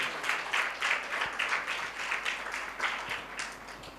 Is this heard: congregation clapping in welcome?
yes